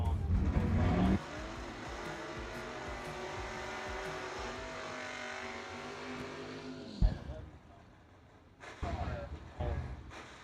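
A Camaro and a Mustang race side by side in a no-box drag race semifinal, engines roaring loud and steady for several seconds before cutting off abruptly, with a brief burst of noise afterward and no talk over it.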